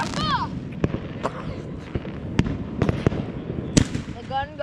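Fireworks exploding at a lake, a series of sharp cracks and booms spaced irregularly over several seconds, with whistling streaks at the start and end and people cheering and shouting between blasts.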